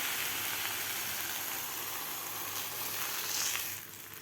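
Dahi dhapate, a yogurt flatbread, sizzles steadily on a hot tava griddle, a continuous close hiss and crackle with no one talking, easing slightly softer near the end.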